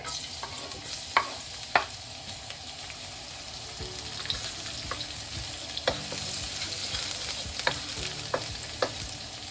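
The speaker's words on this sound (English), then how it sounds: "Once the oil is hot, put the garlic." Garlic sizzles steadily in hot ordinary cooking oil in a pan, a constant crackling fry broken by occasional sharp clicks and taps of a utensil stirring, with no talking.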